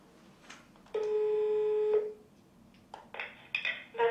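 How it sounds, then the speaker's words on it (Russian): An incoming call rings on a telephone as an electronic tone, one steady ring burst lasting about a second, then shorter chirping tone bursts, in a quiet room during an interview. "Вот сейчас здесь кто-то нам звонит"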